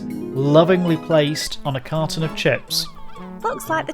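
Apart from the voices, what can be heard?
No everyday noise stands out behind the speech.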